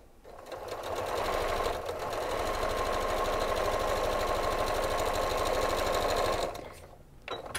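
A sewing machine stitches quilt fabric for a layer-cake table runner, starting up and running in a steady, fast, loud mechanical chatter for several seconds before stopping.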